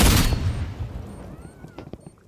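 A single loud gunshot rings out at a shooting range, a sharp close blast that decays over a second or two, followed by faint scattered clicks and handling noise.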